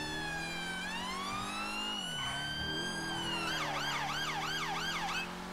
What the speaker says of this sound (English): Can turn our lights, our sirens off